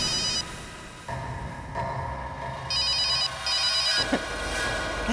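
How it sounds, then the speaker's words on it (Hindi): Telephone ringing in a tense crime-drama scene, a bright electronic trill that repeats in several short bursts over a low background music bed, fairly loud and close. "अभी 1 मिनट में फोन की रिंग बजेगी"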